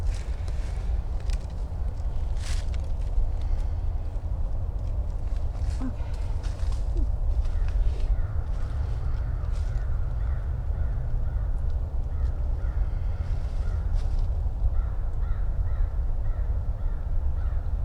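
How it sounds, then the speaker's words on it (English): Crows caw intermittently against a steady outdoor background rumble, the calls moderately distant and scattered across the whole stretch. "There's crows. Yeah. Good old crows."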